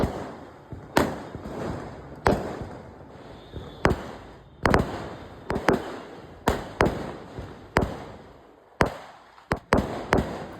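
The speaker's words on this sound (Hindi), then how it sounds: "बीच में मुझे दिखने को मिल गई पटाखे" Diwali firecrackers burst one after another, about fifteen sharp, loud bangs at irregular intervals, each fading quickly, with no talking.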